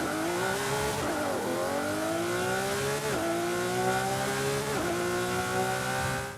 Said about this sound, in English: now let's go ahead and take a listen to that wonderful V12.